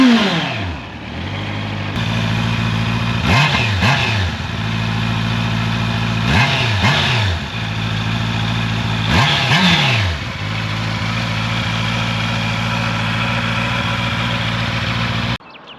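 A 2023 Honda CB650R motorcycle's four-cylinder engine starts up in neutral and settles into a steady idle, broken by three sharp throttle blips that rev up and fall back, loud and close.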